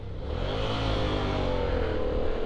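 A Yamaha MT-07 motorcycle engine revs and hums in the middle distance, filtering between lanes of urban traffic, blending with the steady rumble of surrounding traffic.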